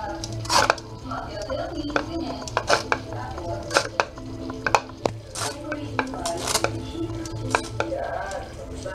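Food is mixed in a pot with olive oil added. A utensil clinks and scrapes against the metal in quick, irregular knocks, close and fairly loud, with a voice talking in the background.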